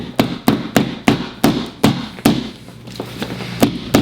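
A hammer taps a metal rivet onto a vintage duffle bag, about ten sharp, close strikes in an even rhythm with a brief pause partway through.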